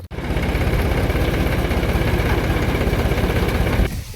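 Yuvraj tractor engine running at a farm during silage bag preparation, a steady low chugging throb that starts abruptly and holds evenly for several seconds before cutting off.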